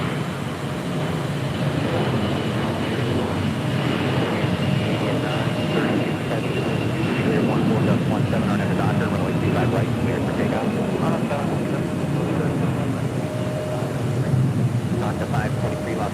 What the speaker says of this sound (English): Next departure here on the south side is Air Canada, Flight 790, heading back to Toronto in an A321